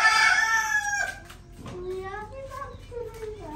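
Chickens and a rooster in a small backyard mini zoo, with a loud crow-like call at the start followed by softer clucking calls, while people talk nearby.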